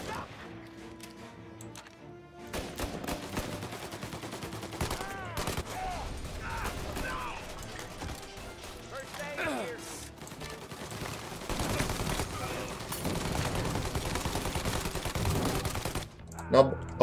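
Gunfire in the Mafia Definitive Edition video game: bursts of rapid shots and scattered single cracks over game noise and someone talking, fairly quiet, ending with a couple of sharper bangs.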